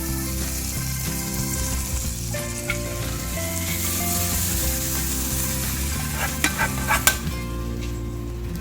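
Tempering for moru curry, buttermilk curry, crackles in hot oil with a pinch of chili powder, a steady close sizzle throughout with a few sharp clinks of stirring near the end.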